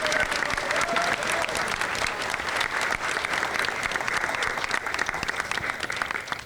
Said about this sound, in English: So let's give them a hand of applause.